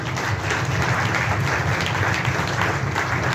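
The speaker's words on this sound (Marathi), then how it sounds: "आता जोरात टाळ्या वाजवून प्रभू येशूला धन्यवाद" A church congregation claps loudly and steadily, a dense, continuous wash of hands filling the room without pause.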